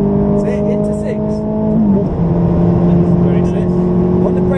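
A Ferrari at full throttle on a track shifts up into sixth gear, the loud steady engine note dropping at the change and then climbing again, with someone speaking over the roar.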